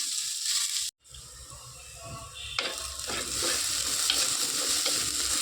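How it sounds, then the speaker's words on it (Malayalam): Garlic and onions sauté in a pan, giving a close, bright sizzle with stirring scrapes; a brief silent gap near the start, then the frying resumes louder and steady. "നന്നായിട്ടൊന്ന് വഴറ്റിയെടുക്കണം കേട്ടോ അത്യാവശ്യം നല്ലോണം വഴറ്റിയെടുക്കണം"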